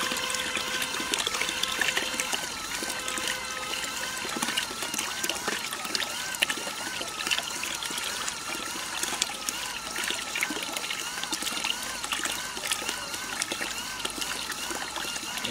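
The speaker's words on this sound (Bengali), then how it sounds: "এই যে একটা মোটরের হয়তো শব্দ শুনতে পাচ্ছেন আপনারা, মোটরটা একটু ডাকছে যে উঁ করে একটা সাউন্ড দিচ্ছে" A small solar water pump runs with a steady, faint motor hum while water trickles continuously into a 10-litre bucket, with a person talking over it.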